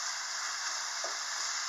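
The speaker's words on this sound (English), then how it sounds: "just make sure that we continue getting that nice sizzle" Lean Black Angus beef and onions sizzle steadily in a hot pan, a constant close hiss throughout with one brief stir or scrape near the middle.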